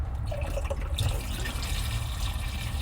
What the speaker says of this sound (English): we're going to pour some down the shower drain in the back